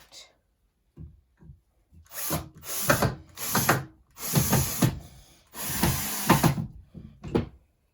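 A screw is driven into a wooden baseboard in several short grinding bursts of a few seconds each, close and fairly loud, with brief pauses between runs.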